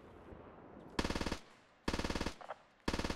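Automatic weapon bursts fire in the Squad video game, three loud, rapid rattling volleys of about six rounds each, separated by short gaps, with a faint distant shot between them.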